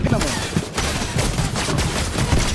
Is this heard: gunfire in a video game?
yes